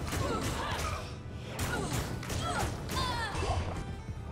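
A maul smashes into enemies in Diablo II: Resurrected, heavy crashing whacks and swooshes landing in quick succession over a busy, loud game mix.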